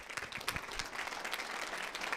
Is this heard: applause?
yes